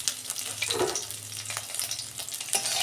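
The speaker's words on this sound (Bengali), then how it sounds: "এই যে মাছটা ভাজা হয়ে গেছে" Magur fish frying in a pan gives a loud, close, continuous sizzle, with a few stirring scrapes and a brief louder burst near the end, and no voices.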